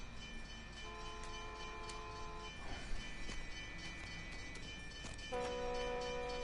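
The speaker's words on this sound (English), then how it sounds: "Is that a train?" A train from the video game L.A. Noire passes with a continuous rumble and clatter while its horn sounds in two sustained blasts, one early and one near the end.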